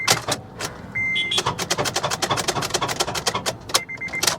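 1970 Cadillac Coupe DeVille with a locked-up engine failing to start: rapid repeated clicking and chattering bursts from the starter for several seconds, close and fairly loud, with brief high electronic tones.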